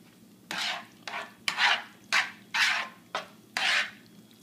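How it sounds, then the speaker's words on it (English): Metal utensil scraping the bottom of a pan while stirring thick Hamburger Helper, seven close, loud rasping strokes in an even rhythm with short quiet gaps between them. "Sorry about the pan noise."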